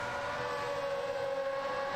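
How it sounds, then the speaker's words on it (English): A police car siren in a video game wails as a steady sustained tone under a constant engine drone, loud and continuous for the whole brief moment with no talking. "He's going to put the sirens on."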